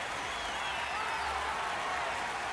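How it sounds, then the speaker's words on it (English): The home crowd at a minor-league baseball game between the San Antonio Missions and Amarillo Sod Poodles roars after a home run, a sustained, distant wall of cheering and applause at a steady level. "And the home crowd goes wild"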